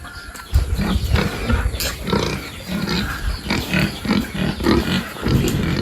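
Pigs waiting to be fed, close by, give repeated grunts and squeals in an uneven, restless rhythm that runs steadily through the whole stretch, with no talk over them.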